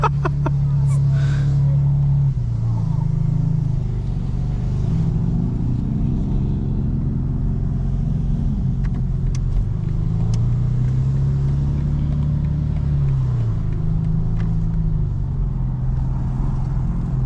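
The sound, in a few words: 2025 BMW M4 CS engine revving and accelerating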